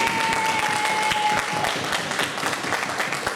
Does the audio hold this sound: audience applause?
yes